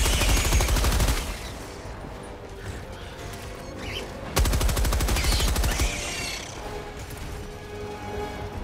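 A thrown sentry support weapon in Helldivers 2 firing loud, rapid automatic bursts, with two sustained volleys separated by a quieter stretch of gunfire.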